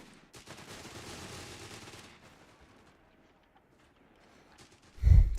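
In the Company of Heroes 3 real-time strategy game, a machine gun rattles for about two seconds in a dense, rapid burst at moderate volume. A short pause follows, then a heavy low thump.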